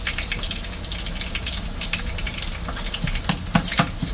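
Chopped garlic sizzling in a pan alongside a salmon steak, a steady crackling fry with soft stirring clinks and scrapes near the end, close and continuous with no talking.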